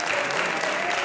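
Applause from a television studio audience, a dense and steady patter of many hands clapping throughout at moderate loudness, with faint voices mixed in.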